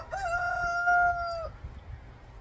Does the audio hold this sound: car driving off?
no